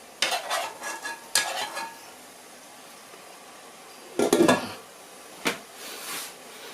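Tagliatelle-style noodles get stirred in a pan with leftover sauce, making a few close bursts of scraping and clattering between quiet pauses. No one speaks.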